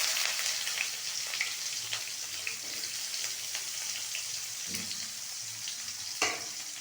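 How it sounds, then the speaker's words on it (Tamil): Fennel seeds and onions fry in hot oil, a dense continuous crackling sizzle with light pops and a couple of utensil knocks partway through, and no talking. "சோம்பு சேர்த்து பொரிஞ்சதுக்கப்புறம் கொஞ்சம் வெங்காயம் சேர்த்துக்கலாம்"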